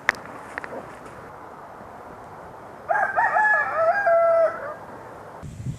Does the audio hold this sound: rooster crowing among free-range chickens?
yes